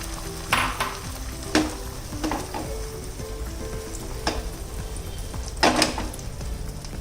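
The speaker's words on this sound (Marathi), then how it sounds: "आता हे तेल तापलंय, आपण हे जे अंड फेटून घेतलेलं आहे परत एकदा थोडंसं फिरवायचंय आणि यामध्ये" Beaten egg hits hot oil in a pan with a steady crackling sizzle, broken by a few sharp scraping knocks and clatters of utensils, close and alone.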